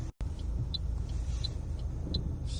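A commercial vehicle slowly crawling out of a car park, its low engine rumble steady and close, with a few faint high chirps over the top.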